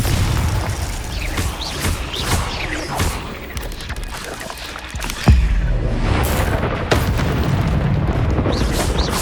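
Confringo spell blasts in Hogwarts Legacy: repeated booming explosions with one heavy hit midway, mixed with other spell effects and combat noise, loud and close.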